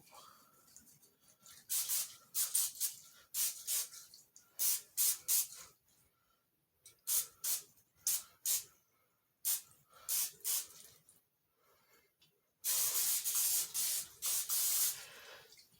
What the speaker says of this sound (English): just that frantic spraying I was doing